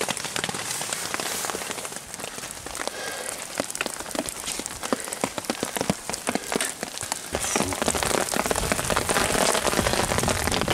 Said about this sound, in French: Toujours sous la pluie